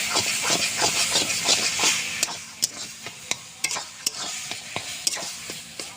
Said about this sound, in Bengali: এবার শাকটাকে আমি খুব ভালো করে ভুটে নেবো এইভাবে